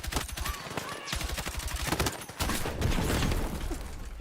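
Battlefield 6 match on the Eastwood map with a grenade blast amid heavy automatic gunfire, rapid rattling shots and a sharp, shattering burst, loud and close.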